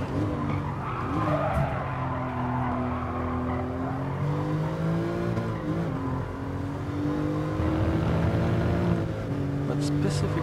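A car in Gran Turismo Sport drifting sideways, its engine droning in wavering pitch under continuous tire skid and squeal, with a voice talking over it throughout.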